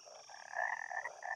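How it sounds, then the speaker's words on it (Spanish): Adult frogs croaking in an educational video game: a brief, soft, continuous croaking chorus, alone with no voices. "¡Suena a ranas adultas!"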